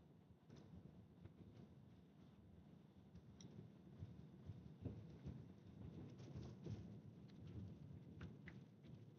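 Heavy rain pouring during a thunderstorm in Kansas and Nebraska storm country, a dense, steady roar with low rumbling underneath and occasional clicks, heard from inside a vehicle without talk.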